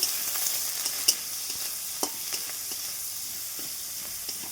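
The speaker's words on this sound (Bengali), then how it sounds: "গরম তেলে মিডিয়াম সাইজের একটা পেঁয়াজ কুচি পাঁচ ছটা কাঁচা লঙ্কা চেরা" Chopped onion and five or six slit green chillies fry in hot oil, giving a continuous bright sizzle with occasional scraping stirs, close and alone without talk.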